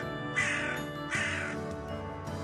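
A cartoon crow named Kalu caws in two loud, drawn-out calls with a fainter third starting at the end, each harsh and nasal, set against a steady background music bed.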